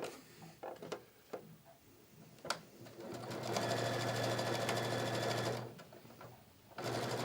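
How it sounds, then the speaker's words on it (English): A sewing machine stitches fabric strips together for a quilt panel, a close, steady mechanical whir and rapid needle chatter running for a few seconds, preceded by light handling clicks and resuming briefly at the end. "I'm going to send that through my machine."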